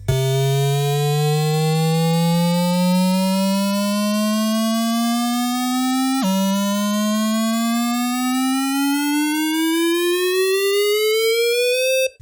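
A single sustained synth tone, shaped with MIDI pitch bend, glides steadily upward in pitch, drops back once partway, then rises again to a higher peak before cutting off.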